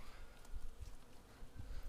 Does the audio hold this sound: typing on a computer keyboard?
no